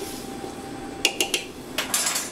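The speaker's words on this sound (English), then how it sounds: "Stir it up real good." A spoon clinks and scrapes against a pot of red cabbage on the stove, a few sharp metallic knocks in quick succession, then a brighter burst of clattering, close and moderately loud with no talking.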